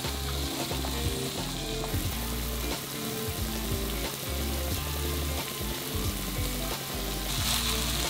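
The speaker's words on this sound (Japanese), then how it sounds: "この調味料と具材を一度少し煮立たせるイメージで炒めます。" Ketchup sauce and ingredients for Napolitan spaghetti being stir-fried in a pan, with loud continuous sizzling and repeated scraping and clattering of stirring close by.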